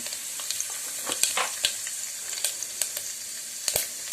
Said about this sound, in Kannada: ಎಣ್ಣೆ ಚೆನ್ನಾಗಿ ಕಾದ ನಂತರ ಸಾಸಿವೆ ಜೀರಿಗೆಯನ್ನು ಇಲ್ಲೇ ಸೇರಿಸ್ತಾ ಇದ್ದೀನಿ.